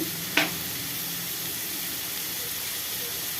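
Sliced onions frying in a pan with salt and turmeric for a papaya curry give a steady, moderate sizzle, with a brief sharp tap of the spoon near the start and no voices.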